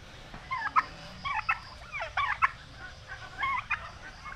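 Several domestic turkeys gobble on a rural Philippine homestead after a light rain, repeated bursts of warbling calls close by, with low background rumble and no talk.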